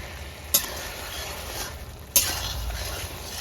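Steady sizzling of fish frying in oil after a curry gravy, with two sharp clinks of a utensil against the pan and a low background rumble.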